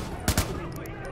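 Video game gunfire from Watch Dogs: Bad Blood: two sharp, loud shots in quick succession over a busy background, with a few faint higher clicks afterward.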